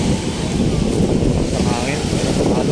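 Strong typhoon wind during Typhoon Egay at Manila Bay roars steadily as loud, broadband buffeting against the microphone, with water and surf noise mixed in.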